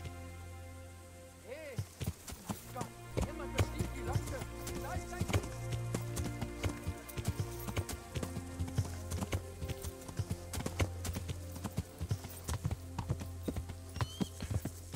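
Horse hooves clip-clopping in the video game Kingdom Come: Deliverance, a steady, rhythmic run of close hoofbeats over a continuous tonal game soundtrack.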